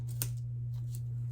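Scissors cutting a basic white piece of cardstock: two short, crisp snips about a second apart, close and fairly quiet over a steady low electrical hum, with no voices.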